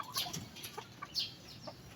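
Short clucks from a gamecock rooster, a few soft calls scattered across two seconds at moderate distance, with no talking.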